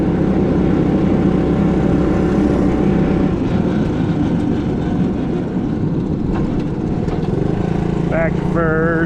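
An original 1970 Honda ATC US90 three-wheeler barn find running in third gear, a loud, close, steady engine drone with rough low rumble, a person speaking briefly near the end.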